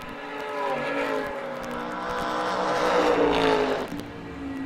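Drag racing cars, including a Chevrolet Camaro, launching down the strip at the Kil-Kare old-time drags: a loud, continuous engine roar that swells and holds, heard at a moderate distance with no voices over it.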